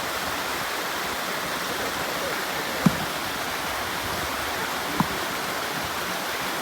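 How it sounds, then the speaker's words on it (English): Water pours off a hard rock ledge at Zealand Falls, a steady, dense rush of falling water close by, with two faint knocks standing out briefly against the constant roar. "Just got water running off this hard rock ledge and everywhere."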